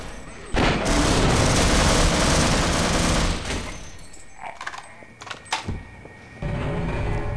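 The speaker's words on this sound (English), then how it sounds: "Submachine gun." Loud sustained submachine gun bursts in Half-Life, a dense rapid rattle for several seconds, then scattered shots and impacts, and another loud burst at the end.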